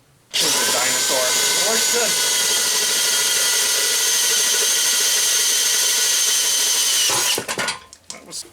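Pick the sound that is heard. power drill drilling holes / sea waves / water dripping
power drill drilling holes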